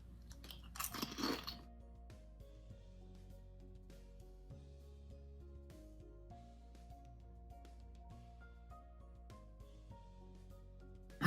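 Crunchy sea salt crisps being chewed close up, with a cluster of loud crisp crunches early on, followed by quieter soft chewing and mouth sounds with no talking.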